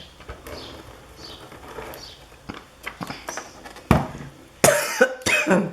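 Several sharp coughs, loud and close, come in short bursts near the end after a stretch of quiet rustling.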